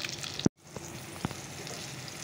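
Onion and tomato fry in a pan as the base for an egg curry, a soft steady sizzle broken by a couple of sharp knocks and a brief dropout, no speech.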